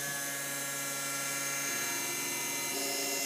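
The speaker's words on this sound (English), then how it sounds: "I think that's about it, so we'll start the engraving." An engraving machine works on a gun barrel with a steady high whine and layered mechanical hum that hold constant throughout, with no talking.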